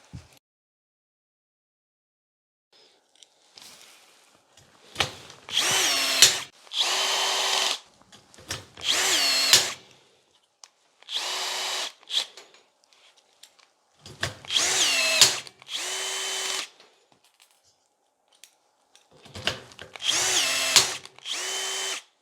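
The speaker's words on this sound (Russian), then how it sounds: "хватит ли усилия аккумуляторной отвертки для того, чтобы установить шпильку 4 мм" A cordless screwdriver fitted with a RAGE rivet nut attachment sets 4 mm threaded studs, whirring in six separate loud bursts of a second or two each, with short quiet gaps between them.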